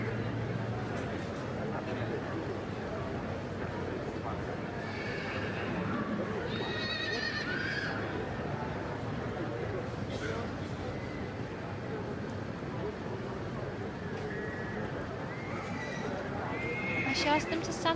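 Mares with foals whinny repeatedly in the main ring at the Royal Welsh Show, loud high neighs rising over a constant crowd murmur and the clip-clop of hooves, with people talking throughout.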